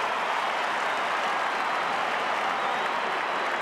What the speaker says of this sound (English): Crowd erupted.